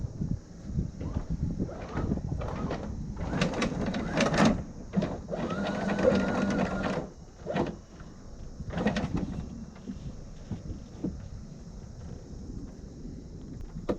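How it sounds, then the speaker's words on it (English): Anchor winch on a sailboat hauling in chain, with uneven bursts of motor whirring and rattling chain links that start, pause and resume, fairly close and without talk. "The chain builds up in a big pile and jams up the winch."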